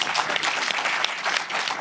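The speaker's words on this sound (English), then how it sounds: "Let's give her a big round of applause" An audience at a live speaking event on a main stage applauds, a dense, loud wash of clapping that continues steadily from start to finish.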